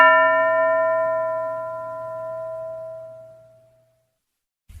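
A cartoon school bell struck once, a bright metallic ring with clear overtones that slowly decays over about four seconds, followed by silence and a brief low thump.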